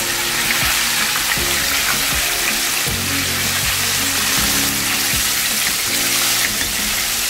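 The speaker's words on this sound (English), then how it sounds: "And I fry them until they golden brown." Vegan chicken pieces frying in hot oil give off a loud, continuous sizzle and crackle that stays close and steady throughout, with no one talking.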